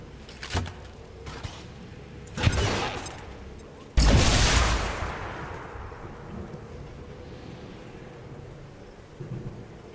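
Frag grenade blast and gunfire aboard a train carriage in the XCOM 2 video game: a few sharp shots early, then a loud, heavy explosion with a long rumbling decay that fades to quiet, with a soft thud near the end.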